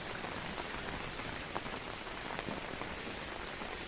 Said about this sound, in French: Mon téléphone, il aime pas la pluie.